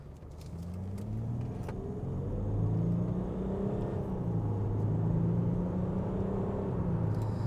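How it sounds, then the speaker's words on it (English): Land Rover Discovery HSE TD6 turbo diesel engine idling close by with a steady deep rumble and low droning tones that rise slightly and hold, loud and continuous with no talk. "I think the turbo diesel is very unique in the sense that it's got more of like a deep rumble to it."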